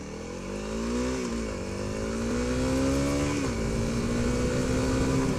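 Close, steady engine of a Honda CRF300L motorcycle pulling through city streets, its pitch climbing as it accelerates, easing briefly, then rising again, with no voices over it.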